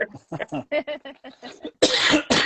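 A person with a bad cough talks briefly, then breaks into two harsh, loud coughs up close.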